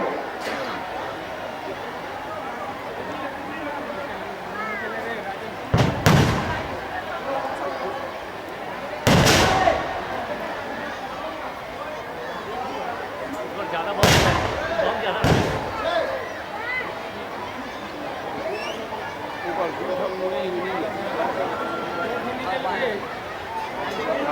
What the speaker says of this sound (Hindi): आतिशबाजी का शानदार नजारा आप देखेंगे।